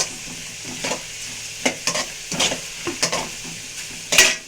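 Onions and green chilies sautéing in a pan for tomato curry, with scattered soft sizzles and several stirring scrapes of a spoon against the metal, plus a sharp clink near the end. Close and moderately loud, with no talk.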